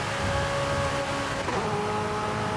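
McLaren 765LT sports car on a straight, its engine a sustained loud drone heard from inside, with a tonal shift partway through as the pitch changes.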